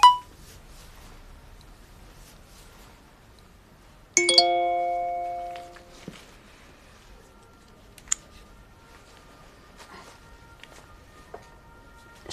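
A phone in an emergency department sounds a short bright multi-tone chime for an incoming text message, ringing out and decaying over a second or two against a quiet room, followed later by a couple of faint clicks.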